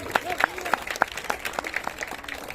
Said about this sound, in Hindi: अस्मिता कर्ण के लिए भी एक बार जोरदार ताली।